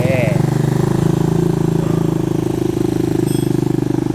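A 250cc minibuggy Gen7 engine cranks and catches via push-button start, settling into a steady, loud, buzzing idle for several seconds with a faint brief beep near the end.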